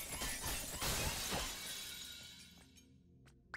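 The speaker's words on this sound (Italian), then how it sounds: "Qua rompiamo tutto con il nostro laser" Objects shattering under a laser in Astro's Playroom, a loud crash of breaking glassy debris that tinkles and fades, followed by a couple of small sharp clinks near the end.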